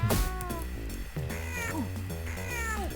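A cat meows repeatedly in a rising, wavering series of close, loud calls over a steady low hum, with several distinct drawn-out cries across the span.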